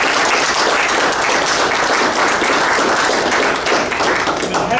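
A conference audience gives sustained, loud applause at a military history conference closing, an even wash of many hands clapping throughout with no pauses.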